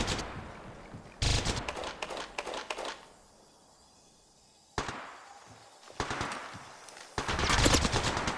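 Video game gunfire from Bully Anniversary Edition rattles in loud rapid bursts separated by quieter gaps, with a long burst near the end.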